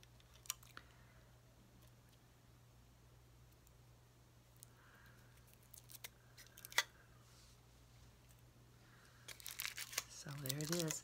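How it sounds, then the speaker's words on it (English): A foil-wrapped peanut butter candy being unwrapped close to the mic, with faint crinkles and tears scattered across a quiet room hum before a louder burst of rustling near the end. "I'll open it with you. It's just a foil wrap like the Hershey Kisses."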